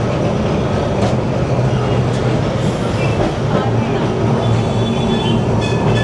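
A crowded Kolkata tram on the Esplanade to Shyambazar route rumbles along its rails with a loud steady clatter and rolling noise. Passengers can be heard talking faintly under it.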